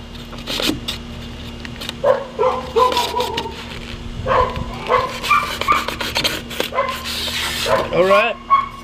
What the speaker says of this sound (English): There's dogs barking, guys, so please excuse that.